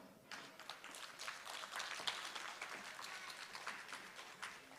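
Audience applause in a parenting workshop room at a professional development event, a dense sustained patter of many hands clapping that swells slightly and carries on for several seconds, fairly distant.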